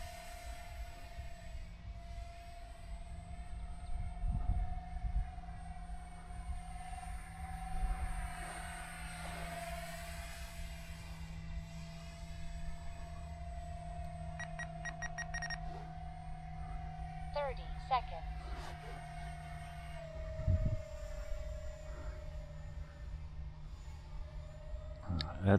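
3D-printed J-36 model jet with three 40mm electric ducted fans flying, a steady high whine that holds and shifts pitch throughout, heard from a distance over outdoor background noise.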